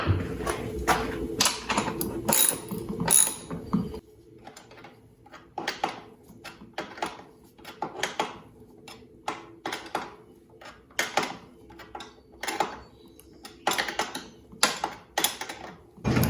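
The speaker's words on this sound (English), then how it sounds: "Start tightening up the 2 bolts." Quiet, irregular clicks and ticks come from tools tightening the two axle bolts on the rear motor wheel of a Rize Blade e-bike, spread across the whole stretch with short gaps between them.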